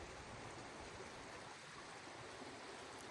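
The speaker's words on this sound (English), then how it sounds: "Nice little stream trickling down." A small stream trickling down in the cold Lake District countryside near Keswick and Buttermere, a steady close wash of running water with no other sounds.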